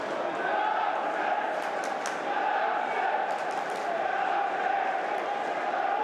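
Travelling Carlisle United fans cheer inside the stadium during a football match against Reading, a steady, loud crowd roar that holds evenly for several seconds from a distance.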